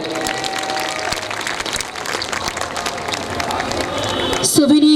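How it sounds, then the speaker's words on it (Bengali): At a ceremony honouring distinguished people, a crowd claps in a sustained, dense burst of applause. Voices talk over the clapping, and a brief tonal sound comes at the end. "সকলের জন্য একটু জোর করতালি"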